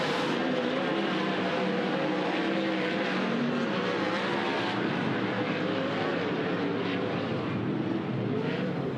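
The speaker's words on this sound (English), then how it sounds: "We'll see if anybody can get him on the last lap. There goes McFadden" Race cars roaring around a dirt oval during a hot lap session with a checkered flag, a continuous loud engine drone that swells and fades as cars pass, with no voices.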